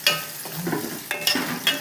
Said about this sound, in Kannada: ಒಗ್ಗರಣೆಗೆ ಸಾಸಿವೆ ಕರಿಬೇವು ಉಳ್ಳಾಗಡ್ಡೆ